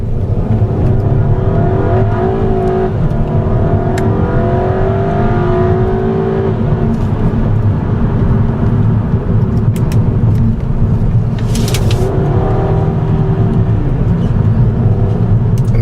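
A 2014 VW Eos hard-top convertible with an automatic transmission accelerates hard, the engine note climbing steadily, dropping at a shift, then rising again as a loud, continuous drone heard from inside the car.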